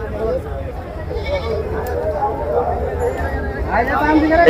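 Goats bleat at a busy goat and sheep market, several calls rising over a crowd's babble while someone talks nearby.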